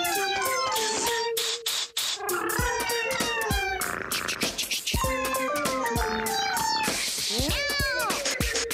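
Cartoon cats from Disney's The Aristocats meow over and over in a loud, melodic string of cries, blended with musical tones.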